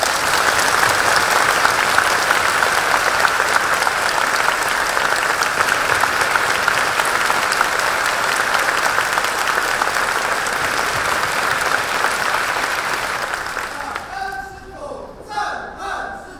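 Steady, dense applause from a congregation at a Buddhist gathering, continuing evenly for a long stretch, then dropping away abruptly near the end as a few tonal sounds come through.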